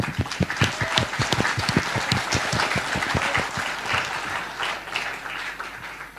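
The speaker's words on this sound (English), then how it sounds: "Can you guys clap for yourself?" An audience at a startup talk claps for itself in a loud, dense burst of hand clapping that holds steady for six seconds before tapering slightly, with no talking over it.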